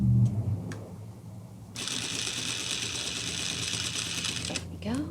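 A sewing machine runs a steady, close whirring stitch along a chalk line on a jeans waist, starting after a short pause with brief clicks before it and stopping near the end.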